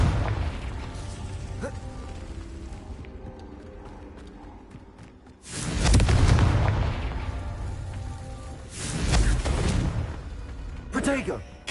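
Confringo fire spells from Hogwarts Legacy burst in three loud, deep blasts separated by quieter stretches of gameplay noise, each explosion swelling and fading over a second or two, with faint talk underneath.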